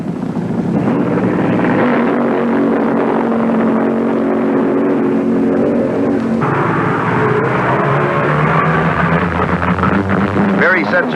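A Chevy Vega drag race car makes a run at the 1973 IHRA Northern Nationals, its loud, steady engine roar heard with an announcer talking over it.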